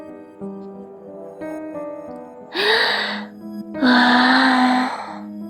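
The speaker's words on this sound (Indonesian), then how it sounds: "mendengar suara helaan nafas itu menggema di dalam toilet kampus" Two breathy gasps echo inside a campus toilet in a horror story effect: a shorter one, then a longer, louder one, both over a low, sustained eerie musical drone.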